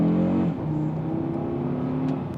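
An Audi RS Q3 engine revs, rising to a high, buzzy pitch and then dropping back to a steady, droning idle. It is close and loud, with no talking.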